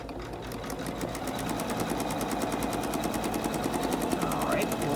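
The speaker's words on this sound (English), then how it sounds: "I'm going to touch the start button and let it start stitching." A Janome 15000 embroidery machine stitches steadily with a fast, even mechanical chatter that holds close and constant from start to finish.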